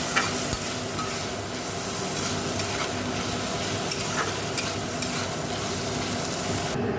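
A small batch of shrimp fries in hot oil in a wok, giving a steady, close, continuous sizzle with faint crackles throughout and no voices.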